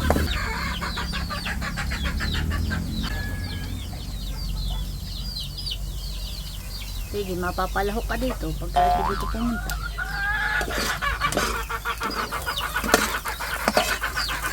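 Chickens cluck and squawk in a busy cluster nearby while someone talks over them, with a steady engine rumble underneath.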